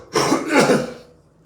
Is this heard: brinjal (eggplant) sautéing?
no